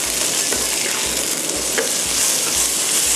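Glass noodles and tofu skin stir-fried in a wok, a steady bright sizzle broken by rhythmic scraping strokes of a spatula about twice a second, close and loud with no voices.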